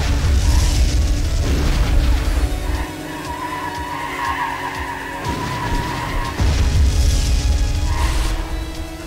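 Missile blasts in the PC kart-racing game RollCats: two loud, rumbling booms burst out between stretches of skidding tires, engine whine and a background music score.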